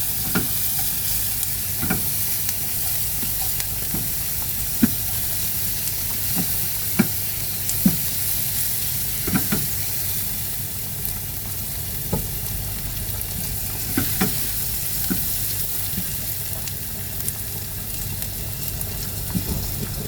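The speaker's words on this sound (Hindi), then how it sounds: "ये 1 टीस्पून के नज़दीक लहसुन का पेस्ट डाल देंगे और इसको इसके साथ ही फ्राई कर देंगे" One teaspoon of garlic paste frying in a pan, a steady close sizzle with scattered clicks of stirring throughout and no talking.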